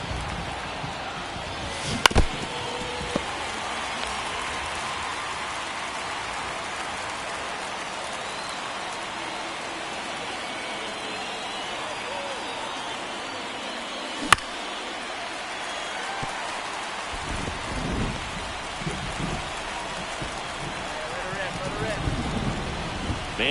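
Steady rain pours over a baseball field during a game, a dense, continuous hiss of falling water with a couple of sharp isolated knocks and some low rumble toward the end; no clear talk stands out.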